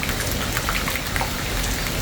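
Steady rain falls during the rainy season, a dense, continuous patter of drops striking surfaces around a house, close and even throughout with no voices.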